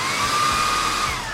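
A Dreame T20 cordless vacuum cleaner runs steadily on its medium power mode, giving a continuous whirring motor drone with a high whine and no other sounds.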